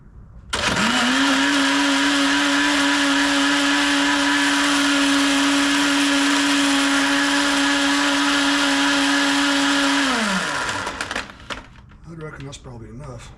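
Blender whirring a chocolate Ka'Chava shake with ice, a loud, close, steady high whine that starts abruptly, holds for about ten seconds, then spins down, followed by faint rattling.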